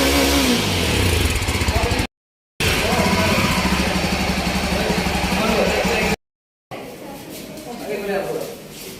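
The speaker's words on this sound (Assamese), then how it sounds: "ইয়াৰ এক্সজষ্ট নটটো অলপ শুনাই দিওঁ আপোনালোকক" A newly delivered adventure motorcycle's exhaust note, the engine idling and revving up close, loud and continuous, broken by two short dropouts and easing off toward the end.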